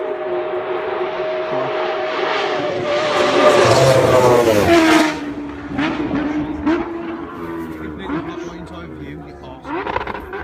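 Kawasaki Ninja H2 motorcycle engine rated at 310 horsepower revs hard, climbing to a loud peak around the middle and then dropping back, with excited voices shouting over and between the bursts.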